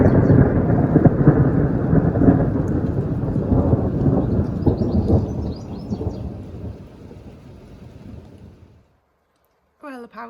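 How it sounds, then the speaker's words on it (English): Heavy thunderstorm with a long, deep rolling rumble of thunder over steady rain, loud at first and gradually fading away, then a voice speaking at the very end. "But the thunder and lightning has just been crazy."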